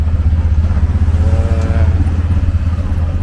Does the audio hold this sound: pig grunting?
no